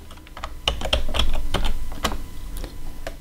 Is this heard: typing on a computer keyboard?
yes